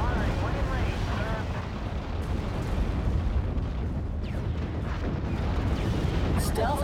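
An anti-air vehicle in the modern-combat RTS Act of Aggression keeps up a continuous rumble of booming, popping cannon fire, dense and steady throughout, with a unit voice announcing over it.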